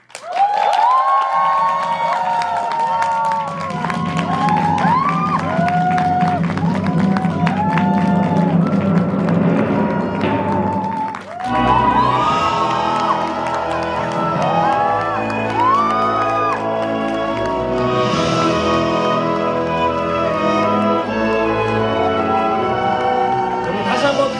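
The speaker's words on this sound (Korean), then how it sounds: "여러분들 정말 가장 뜨거운 큰 박수를 부탁드리도록 하겠습니다" A fan-meeting audience claps and cheers loudly and continuously, with whoops and shouts swelling over music and a voice on the sound system.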